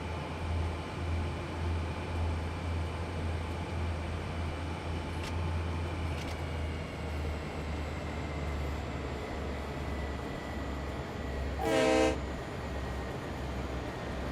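A train with a caboose rolls along in Train Sim World 5, a low rhythmic rumble running throughout, broken near the end by one short, loud horn blast.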